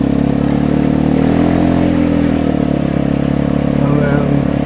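A Vespa 250 GTS scooter rides along a country lane, its engine a loud, steady, low drone heard up close for the whole clip, mixed with continuous wind rush.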